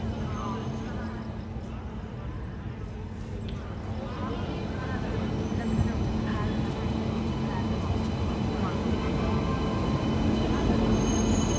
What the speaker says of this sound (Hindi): नौचंदी एक्सप्रेस एक डेली ट्रेन है जो हफ्ते में 7 दिन चलती है सहारनपुर और प्रयागराज के बीच में।